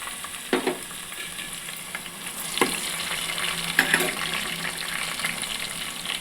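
Onions, green chillies and tomatoes sizzle in a pan for a small-fish curry, a steady close fry with occasional clacks of a spoon stirring and scraping.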